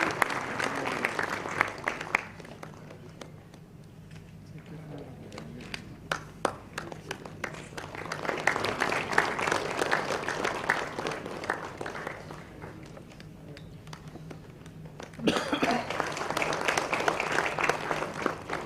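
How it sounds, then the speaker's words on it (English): An audience at a science institute's foundation day celebration claps for prize winners, with dense applause continuing throughout, easing in the middle and swelling again toward the end. "Can we have a huge round of applause for them?"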